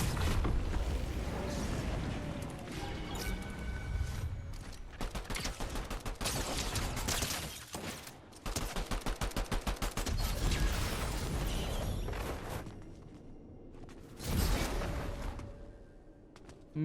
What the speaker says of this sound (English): I'm going to let some gameplay play out that I got on stream using this pistol